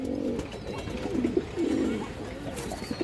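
Pigeons coo in several low, throaty bursts that run almost back to back, moderately soft against faint background noise.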